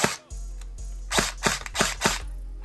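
An HK416 airsoft rifle fires short full-auto bursts, about 22 rounds per second, producing close, sharp mechanical cracks with a dull electric motor hum between the bursts.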